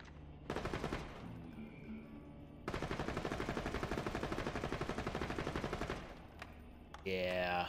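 Rapid automatic pistol fire in Borderlands 2, delivered in two long, loud bursts of tightly spaced shots with a short gap between them, then a brief electronic whine at the end.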